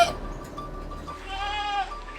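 Hybrid goats bleat in the Philippines, one wavering, nasal call rising clearly above a low farmyard background, with fainter bleats nearby.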